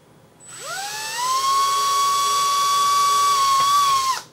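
A Dremel rotary tool winds up to a steady high whine while drilling a hole in a NES-101 Nintendo Top Loader console, holding one loud sustained pitch for several seconds before spinning down, with no talk.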